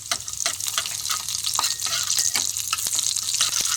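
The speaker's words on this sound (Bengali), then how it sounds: "জিরেটাকে তেলের সঙ্গে খুব ভালো করে ভেজে নিয়েছি।" Whole cumin seeds crackle and fry in hot oil in a kadai, a steady bright sizzle with scattered popping ticks running loud and close throughout.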